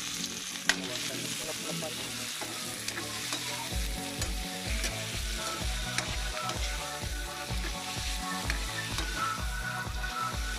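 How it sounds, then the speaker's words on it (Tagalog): Pork fat sizzles and fries in a pan as the base for pakbet, a steady close crackle running the whole way through with a rhythmic low thumping underneath. "Lagay yung taba."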